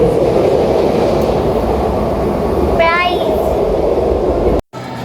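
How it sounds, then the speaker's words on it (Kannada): Loud, constant rumble of a Belgian railway station with trains running, heard from inside an elevator, a brief rising electronic whine partway through, then a sudden drop before the noise resumes. "ಇಲ್ಲಿ ನೋಡಿ ರೈಲ್ವೆ ಸ್ಟೇಷನ್, ಬೆಲ್ಜಿಯಮ್ದು ಒಂದು ರೈಲ್ವೆ ಸ್ಟೇಷನಲ್ಲಿ ನಾವು ಲಿಫ್ಟಲ್ಲಿ ಹೋಗ್ತಾ ಇದೀವಿ"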